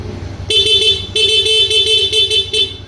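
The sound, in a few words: motorcycle horn honking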